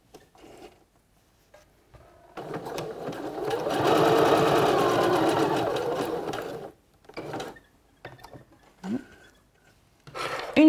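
A sewing machine stitching a swimsuit runs in one steady, whirring burst of about four seconds, close by, framed by quiet handling noises and brief fabric rustles before and after.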